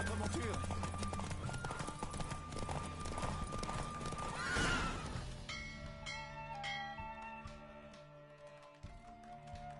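A galloping horse in The Witcher 3, its hooves pounding steadily under game music and a voice, with a loud neigh midway, then the pace winds down among lighter tapping and bell-like tones.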